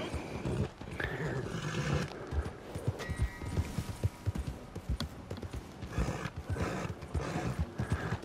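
A horse galloping in a hunting video game, rhythmic hoofbeats thudding close and fairly loud, with occasional animal calls and ambient noise.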